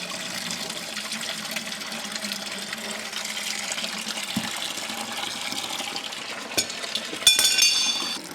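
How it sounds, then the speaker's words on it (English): Water drains and trickles steadily from the bottom of a 1944 Cleveland two-stroke generator, a continuous close splashing with light metallic clinks and a sharper clatter near the end. "I'm gonna try to drain off the water that's on the bottom"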